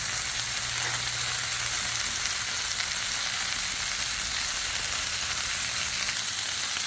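Bacon sears on a Blackstone griddle with a loud, constant sizzle. It stays steady from start to finish and no one speaks over it.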